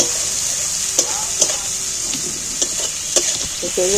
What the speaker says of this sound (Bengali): এবার আমি একটু পেঁয়াজটাকে ভালো করে ভেজে নিই